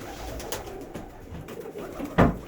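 Pigeons coo softly inside a pigeon loft, with a few low murmuring calls spread through the clip and one louder, closer coo near the end.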